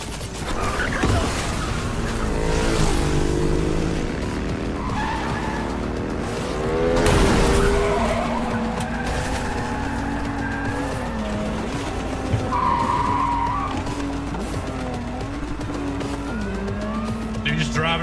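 A motorbike in Cyberpunk 2077 revs and drives with tires squealing and skidding, loud and close, engine pitch rising and falling over steady road noise, with voices talking over it.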